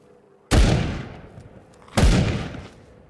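Two heavy gunshots from a hard-hitting gun in the game Will To Live Online, each a sharp loud crack with a long decaying tail, spaced about a second and a half apart, with no talk.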